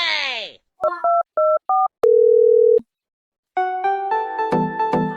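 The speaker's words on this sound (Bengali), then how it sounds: "আমি পুলিশকে ফোন দেই।" A telephone sounds a series of short keypad beeps, then a long steady dial tone, followed by brighter electronic tones as a call to the police is placed; the tones are loud and close.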